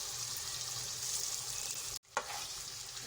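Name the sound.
frying meat for Sindhi biryani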